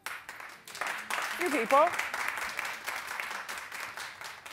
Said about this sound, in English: Clap if you do.